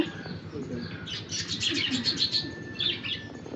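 Lovebirds chirp in quick bursts of high, bright tweets, fairly close, over a faint low background hum.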